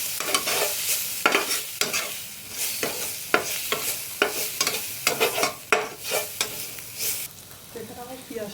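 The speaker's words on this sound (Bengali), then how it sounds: "এগুলোকেও ভালো করে মিশিয়ে নেব।" A spatula scrapes and stirs frying onion with chopped green chilli and a little turmeric in a pan, giving repeated clattering strokes in an uneven rhythm over a constant close sizzle, with no talking.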